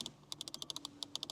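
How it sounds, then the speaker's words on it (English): Climate control vent switches in a Bentley Continental GT Speed click crisply about fifteen times in quick irregular succession, close and quiet, with nothing else heard. "the clicking sound from the climate unit"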